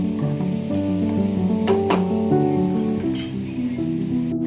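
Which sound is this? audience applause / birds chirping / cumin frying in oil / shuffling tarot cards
cumin frying in oil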